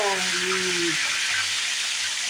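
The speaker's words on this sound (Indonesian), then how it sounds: "kali ini Bude menggoreng ikan nila" Tilapia fish frying in hot oil, a steady loud sizzle filling the whole moment while a voice talks briefly at the start.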